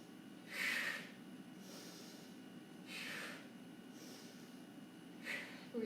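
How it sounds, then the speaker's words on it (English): Heavy breathing during a weight-training workout: three forceful, snort-like exhales spaced a couple of seconds apart, close and fairly soft over quiet room tone, with no speech. "I think I'm breathing enough for all of us."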